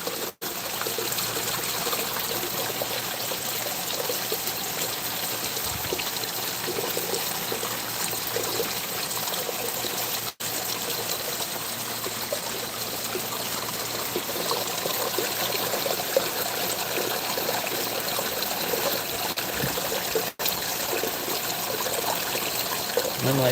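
Water pours over a rock and splashes down in a steady, loud, continuous rush that fills the whole stretch. There is no clear talk over it.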